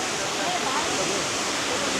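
A constant hiss of falling water from Abbey Falls, a waterfall in Coorg, fills the short stretch evenly, sounding close and continuous without any pauses.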